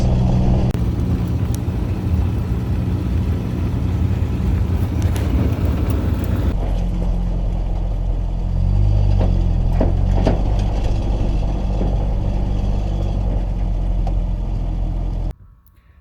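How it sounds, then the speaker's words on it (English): A small 1976 Triumph Spitfire 1500 sports car being driven, a steady loud engine drone heard from inside, with a brief rise in engine note midway before the sound cuts off abruptly near the end. "the car is pretty small and it runs and drives pretty good"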